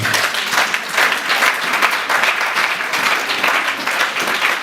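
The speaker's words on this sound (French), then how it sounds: "Si tu le veux, acclame Dieu pour ça" A church congregation at a Sunday worship service bursts into loud, sustained clapping that fills the room in a dense, continuous wash of hands.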